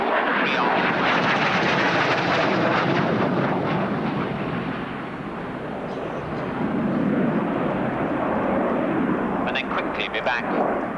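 A Harrier GR5 jet at an RAF airshow in 1990 roars loudly and steadily overhead, a broad continuous engine rumble that dips slightly midway and then swells again.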